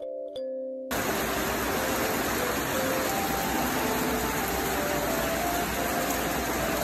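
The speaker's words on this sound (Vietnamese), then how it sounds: "trời mưa rầm rầm luôn" Heavy rain pours steadily outside in a rural Mekong Delta setting, a dense, loud hiss that comes in abruptly after a brief quieter start and continues without letup, with no talk.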